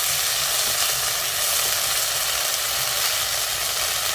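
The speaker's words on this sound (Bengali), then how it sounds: "আগে থেকে যে আদা জিরে ও মৌরি পেস্ট করে রেখেছিলাম সেইটা দিয়ে দেবো" A paste of ginger, cumin and fennel hits hot oil and frying spices in a pan, giving a loud, steady sizzle that runs throughout with no talking.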